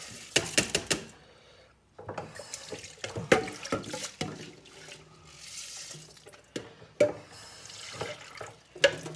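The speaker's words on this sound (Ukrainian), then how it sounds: "Набираю води небагато." Water from a tap runs in uneven splashing bursts into a cast-iron cooking pot, with clattering knocks and drips in between, close by and with no speech.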